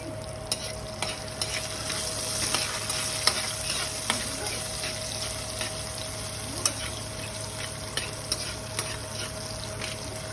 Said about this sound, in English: I'm adding in my garlic that I diced up earlier and my diced up green chilies. Now saute for about 50 seconds